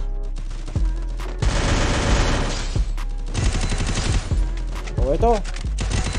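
Rapid bursts of gunfire in the Free Fire video game on a training range, loud repeated volleys with short pauses between them, and a brief voice speaking over part of it.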